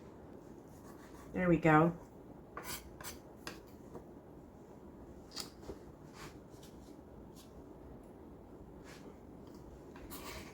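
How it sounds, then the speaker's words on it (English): A knife cuts through strips of smoked salmon on a board with a series of soft, scattered scraping strokes. A brief voice speaks early on, and the rest is quiet, close work. "We're just going to cut through them going this way."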